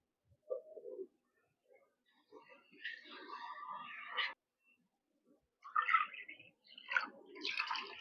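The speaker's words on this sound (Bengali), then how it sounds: "সেজন্য আমি এই বাটিরই মাপ করে ডবল জল দেবো।" Water poured from a bowl into raw rice for a tomato rice dish, arriving in several separate splashing bursts with short pauses between pours, close and moderately loud.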